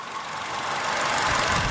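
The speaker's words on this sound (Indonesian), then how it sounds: "Untuk suara dari mesin ini juga terbilang nggak ada masalah, teman-teman, masih cukup normal." Engine of a 2014 Toyota Innova Luxury running: a brief, steady mechanical hum with a faint knocking texture that swells slightly toward the end, heard alone without voices.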